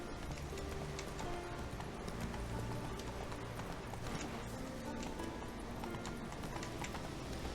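Hooves clip-clop in a fast, steady gallop as Roach the horse runs in The Witcher 3, loud and close over a dense bed of game music and ambience.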